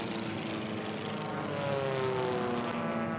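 Formula One class racing plane, the Wagner Special, flying at the Reno air races, a steady loud propeller-engine drone with a slowly shifting pitch as it passes.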